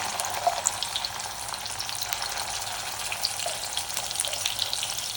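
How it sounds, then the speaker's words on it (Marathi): Black masala paste fries with chicken, crushed garlic and bay leaf in a hot pan, giving a steady, close sizzle dotted with small popping crackles and no talking. "तर काळं वाटण आपण याच्यामध्ये ऍड करूया."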